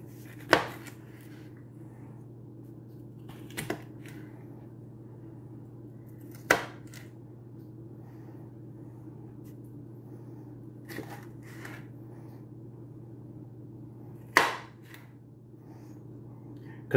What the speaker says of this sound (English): Now I'm going to cut up the habaneros the same way.